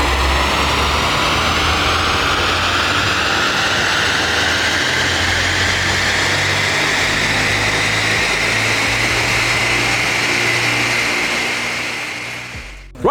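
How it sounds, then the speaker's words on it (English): A 1-litre Ecoboost turbo Ford Fiesta with a stage 1 tune and Forge induction kit revs on a dyno, a loud continuous engine roar climbing steadily in pitch before cutting off at the end. "So guys, the little Fiesta Ecoboost is now on the dyno."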